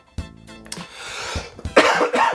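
Several close, dry coughs in a short burst, a person hacking repeatedly in a dry room with rough breathy bursts and no talking.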